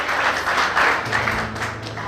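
A church congregation applauds loudly during a service, with full clapping under a faint low hum and some voices.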